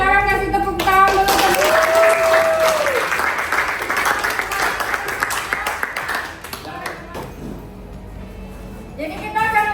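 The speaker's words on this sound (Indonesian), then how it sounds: "silakan kasih tepuk tangan dulu" Classmates in a high school classroom clap together after a group presentation, a loud burst of applause that fades out partway, with some background voices and tonal sounds around it.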